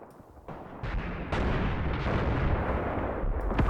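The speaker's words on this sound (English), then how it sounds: "this anti-tank gun is starting to engage" Anti-tank gun firing in the war game Graviteam Tactics: a series of sharp, booming shots and rumbling impacts, growing louder and denser after the first second, with no talk.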